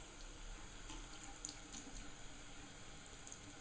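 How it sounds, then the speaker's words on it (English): Warm water runs steadily from a tap over a used makeup foundation brush at a sink, a constant close hiss and splash with no talking. "So I'm going to use warm water on this just to break up that makeup."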